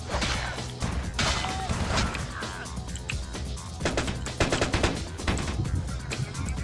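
Gunshots in Vampire: The Masquerade – Bloodlines ring out in rapid bursts and repeated loud cracks, with crashing impacts amid busy game combat noise.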